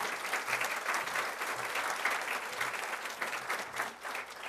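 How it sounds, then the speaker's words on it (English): An audience at a student awards ceremony applauds a university vice president, producing steady, full clapping that carries evenly throughout. "Let's give her a round of applause."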